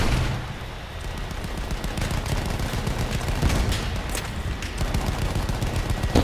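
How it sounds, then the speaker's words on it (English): Rapid machine gun fire from a tank-mounted gun during a gas assault battle in Battlefield 1, dense continuous bursts of close, loud shots with a steady crackling texture throughout. "Machine gun."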